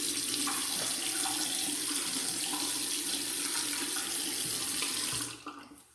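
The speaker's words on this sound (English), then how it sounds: "I'm going to get some hot water on my head." Hot water pours steadily from a tap onto a person's head before shaving, a continuous splashing rush that cuts off near the end.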